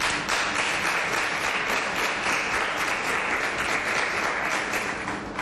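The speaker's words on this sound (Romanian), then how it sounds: "Aplauze!" Applause fills a press conference room, a sustained wash of many hands clapping evenly, fairly close and steady from start to finish without speech.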